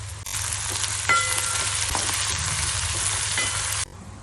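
Steady, loud sizzling of spices and chopped shallots frying in hot oil for beetroot pachadi, continuous crackle with a few sharper pops, then cutting off abruptly near the end.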